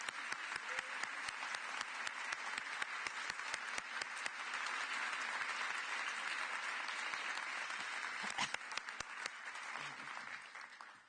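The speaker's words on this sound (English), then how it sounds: "Let's give another round of applause." At an EU prize ceremony for women innovators, a large audience applauds in a dense, sustained burst of clapping that carries on for several seconds before tapering off at the end.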